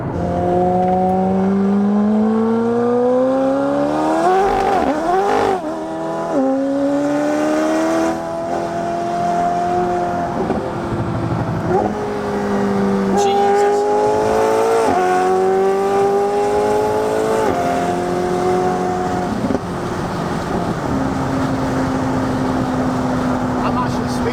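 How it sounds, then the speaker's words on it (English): A McLaren engine with an aftermarket exhaust drones and revs up repeatedly through gear changes, heard from inside the cabin with people talking over it. "since Lee's had his massively expensive exhaust system. And to be honest with you, sounds exactly the same"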